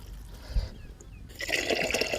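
Water pours into a pot, starting quietly and then swelling into a steady, splashing rush for the last second or so, close by.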